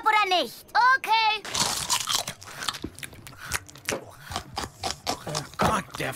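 Loud, close crunching and chewing of food from a cartoon character eating greedily, with biting noises following voices at the start.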